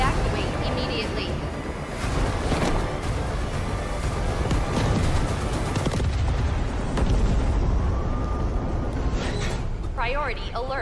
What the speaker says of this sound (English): Hydrogen explosion at reactor 2.